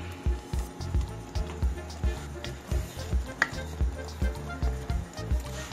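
Taro leaves simmering in coconut cream in a pan, stirred with a utensil: a steady low sizzle and bubbling with repeated soft scraping and squishing strokes in an uneven rhythm, close up, with no talk.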